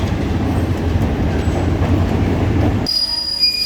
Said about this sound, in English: they run on a narrow gauge train.